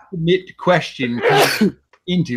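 Sneezes from a person during a quiz, short bursty outbursts that mix in and out of ongoing talk, close and fairly loud.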